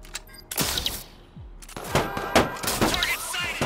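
Gunfire in the open-world video game Watch Dogs 2, loud sharp shots in quick clusters with a short lull between volleys, close and punchy.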